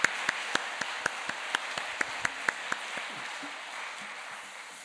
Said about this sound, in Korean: 다시 한번 박수로 하나님께 영광 돌리겠습니다.